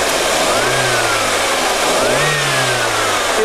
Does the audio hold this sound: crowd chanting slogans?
no